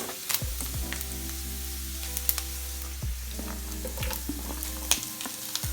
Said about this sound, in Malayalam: ഇനി നമുക്ക് സവോള ഇട്ട് കൊടുക്കാം.